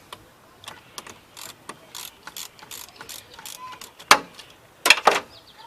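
A ratchet fitted with a 10mm socket clicks in quick bursts while loosening the battery terminal on a Honda Civic, close and sharp with brief pauses and a couple of louder metallic clacks near the end.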